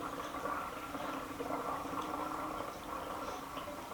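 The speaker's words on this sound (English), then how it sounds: "Now I'm going to be adding some more water." Water pours steadily into a mead must of pear, vanilla and chai, making a continuous, even rushing and gurgling that stays at a constant level throughout with no voices.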